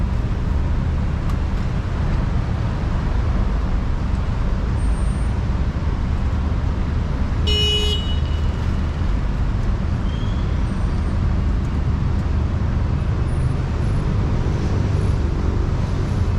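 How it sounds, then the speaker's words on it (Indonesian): Heavy city traffic jam in Kuala Lumpur, Malaysia: a continuous low roar of idling and creeping cars and buses with a brief high-pitched squeal partway through and no talk. "Jadi perlu kalian tahu, sini lagi macet."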